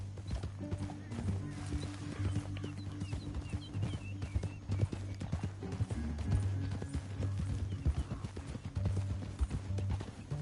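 Steady clip-clop of horse hooves at a gallop in the video game Red Dead Redemption 2, with occasional whinnies over a low musical drone throughout.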